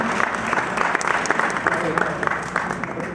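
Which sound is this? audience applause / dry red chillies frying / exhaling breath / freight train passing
audience applause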